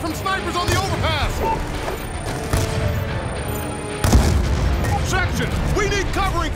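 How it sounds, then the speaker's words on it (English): Sniper and other gunfire in Call of Duty Black Ops II, on a busy battlefield with booms and sharp shots mixed into steady combat noise. Voices shout over the fighting. "We're taking fire from snipers on the overpass!"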